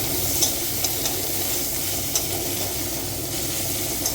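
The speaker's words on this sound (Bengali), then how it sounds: "এইবারই আমি এই টমেটো কুচিটা দিয়ে দিলাম, একটু ভালো করে ভেজে নিই।" Chopped tomato sizzling and frying in a pan for an egg curry, a steady close hiss with a few soft stirring clicks, no talking.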